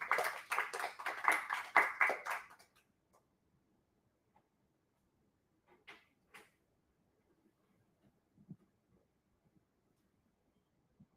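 Short burst of applause from a small audience at a secondary school debate, clapping for a few seconds before fading into a quiet room with scattered small knocks and creaks.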